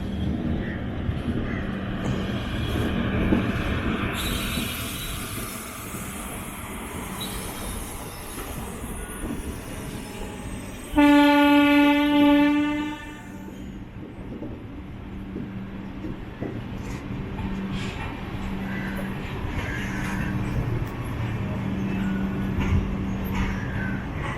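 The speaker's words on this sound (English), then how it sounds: "Seems like the Coimbatore bound Intercity Express." A Coimbatore-bound Intercity Express train rumbles past steadily in India with a low continuous roar, and a loud horn blares for about two seconds partway through.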